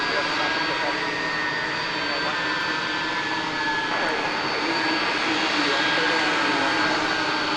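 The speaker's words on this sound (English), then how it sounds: "Here comes the Qatar 777." Qatar Airways Boeing 777 at DFW Airport: a continuous, loud jet engine roar with faint whining tones that holds steady throughout, and a voice speaks over it.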